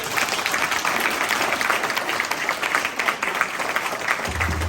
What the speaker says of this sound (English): Should we give them another round of applause?